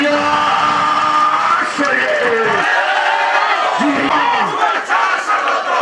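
A large crowd at a BNP food-distribution gathering in Siddhirganj roars in loud, continuous shouting and cheering to welcome party leader Khairul Kabir Khokon, with massed voices swelling and chanting close by throughout.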